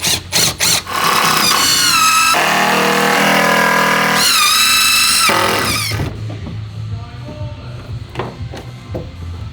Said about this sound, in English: Now we got to drill this down so that this all stays in place.